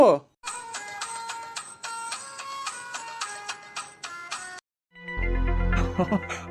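A phone rings while someone places a call, a bright repeating melodic ringtone pattern heard up close, then it cuts off into louder rustling and voices.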